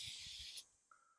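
White lithium grease sprays from an aerosol can in a short, steady hiss of about half a second that cuts off abruptly, followed by a faint, brief tone.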